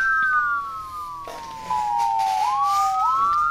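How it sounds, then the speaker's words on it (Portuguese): An ambulance siren in the Emergency 4 emergency-services video game wails in long, sweeping rising and falling tones, loud and clear over a low background hum. "Ó a ambulância, agora que chegou"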